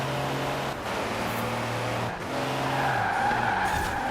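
Car in Forza Horizon 4 skidding with tire squeal over a steady engine drone, a continuous close racing-game sound with no talking.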